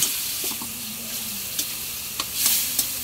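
Chicken frying in a pan while being stirred, a steady bright sizzle with a few short scrapes and clinks of the utensil, close and continuous.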